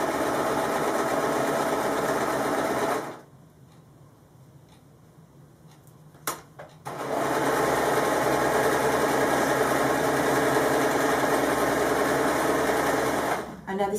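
A sewing machine stitches fabric for a bookmark, running loud and steady, then stopping briefly with a few clicks before starting again and running continuously to the end.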